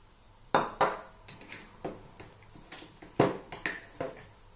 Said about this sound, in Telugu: కొంచెం జీలకర్ర, కొంచెం ఓమ అండ్ ఉప్పు వేస్తున్నాను కలుపుకోవటానికి